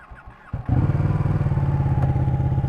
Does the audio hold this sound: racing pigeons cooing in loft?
no